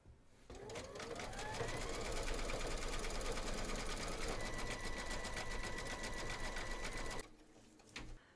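An embroidery machine runs steadily through a quilting round on an in-the-hoop teddy and unicorn bag, its close, continuous rapid needle chatter holding for about seven seconds before stopping, then a brief burst of stitching.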